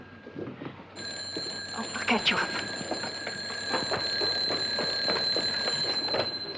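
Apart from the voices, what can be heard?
telephone ringing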